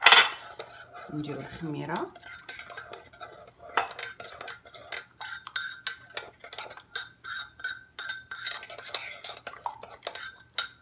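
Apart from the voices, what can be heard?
stirring sugar, water and yeast in a bowl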